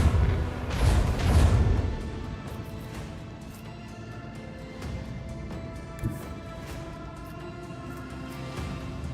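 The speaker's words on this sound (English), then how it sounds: "Macro cannons, open fire!" Booming starship macro cannon blasts in the video game Rogue Trader, loud and heavy at the start, then a low rumbling battle din with a sharper thud midway.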